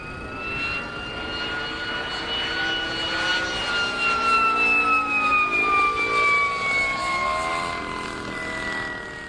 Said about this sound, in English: Here is a video of an RC U-87, siren included.